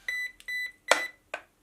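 A brushless-converted Typhon 665 RC car's electronics power on with a short series of clear electronic beeps, two tonal chirps followed by two sharper blips, close and isolated.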